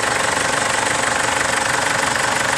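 A car engine just repaired at a garage after eight broken valves runs steadily at idle with a fast, even knocking clatter, loud and close, with no voices.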